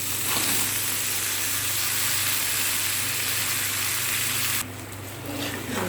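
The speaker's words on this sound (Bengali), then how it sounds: "এইবার লতিগুলো দিয়ে দিচ্ছি।" Taro stolons (loti) sizzle in a hot pan, a loud, steady crackling hiss that runs unbroken for several seconds before suddenly dropping to a quieter simmer near the end.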